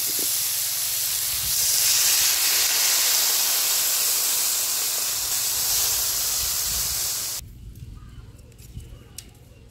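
Water poured into a hot pan of fried rohu fish bursts into a loud, steady hiss that runs for several seconds, then cuts off abruptly and leaves faint crackles.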